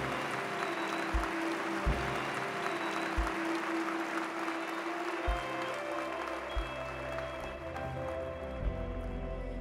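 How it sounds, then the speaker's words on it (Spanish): A church congregation claps loudly and steadily through the moment, with sustained keyboard chords and bass notes ringing beneath the applause. "Dale fuerte ese aplauso al Señor"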